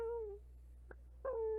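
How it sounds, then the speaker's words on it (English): A cat meows behind the player in a video game: two drawn-out, wavering mews, one at the start and another near the end, fairly clear over a low steady hum. "I think it was a cat behind me in the game"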